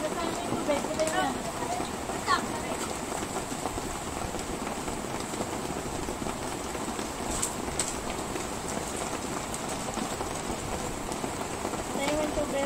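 Steady rain falls on a Meycauayan housing-subdivision home, a dense continuous patter with close splashing, while people talk nearby throughout.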